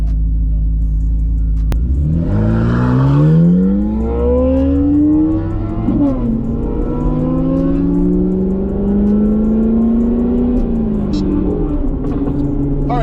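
A Corvette C8 Z06 pulls hard through third gear, its engine note climbing steadily in a loud, close, continuous surge with a brief dip between rises, no voices over it.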